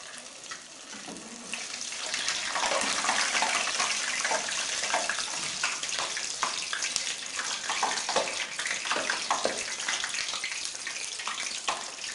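Marinated fish pieces sizzling in hot ghee in a kadai, a steady loud hiss and crackle that swells after the fish goes in and continues throughout.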